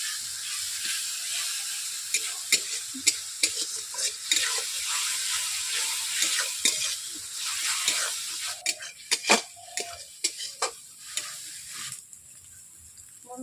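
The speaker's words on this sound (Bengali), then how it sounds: "এইভাবে মশলাগুলোকে 5 মিনিট কষিয়ে নিচ্ছি।" Spices and masala for a village-style hilsa curry sizzle in a pan with a little water, a steady hiss broken by clicks of stirring that grow busier and louder toward the end, with no one speaking.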